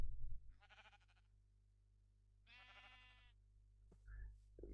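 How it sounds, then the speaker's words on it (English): Sheep bleating inside a farming game pen, two clear drawn-out bleats a few seconds apart over a steady low hum, followed by brief clicks near the end. "And there we have the sheep safely in our pen."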